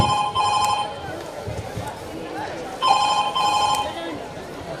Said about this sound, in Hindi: तभी उसकी दोस्त रूबी का फोन आता है।